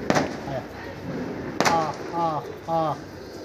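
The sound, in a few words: pigeons arriving and cooing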